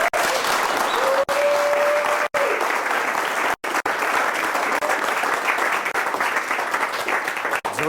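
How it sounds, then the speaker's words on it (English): Steady, dense applause from a party crowd honoring a guest, continuing for several seconds with a few brief breaks, and people speaking faintly beneath the clapping. "another round of applause for Jerome"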